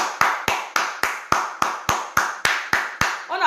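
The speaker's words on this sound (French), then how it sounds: "On applaudit fort pour madame souveraine." Crowd clapping in strict unison, about a dozen sharp, evenly spaced claps with a short ringing tail after each, loud and close, ending as a voice begins to speak.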